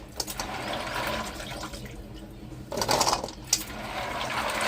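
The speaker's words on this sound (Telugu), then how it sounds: "ఒకసారి అయితే కడిగేద్దాం" Water sloshes and splashes in a basin as raw tamarind is rinsed of dust, a steady close wash with a couple of louder splashing bursts near the end.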